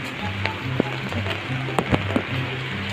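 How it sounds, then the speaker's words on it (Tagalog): Rain falls steadily outdoors in a rural village area, a constant soft patter with a few sharper drops and clicks against a low background rumble, no one speaking. "At kitang kita nyo pa rin, umuulan pa rin."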